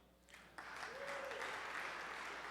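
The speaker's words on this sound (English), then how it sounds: "More applause." Applause from an audience at a public address by New York City Mayor Michael Bloomberg, a soft, distant patter of clapping that swells in after a brief quieter moment and continues evenly, faint and roomy.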